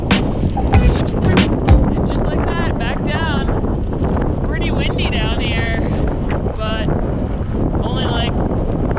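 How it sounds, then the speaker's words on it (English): Strong wind at Monarch Pass buffets the microphone in a steady roar, with a voice speaking over the gusts. "It's pretty windy down here."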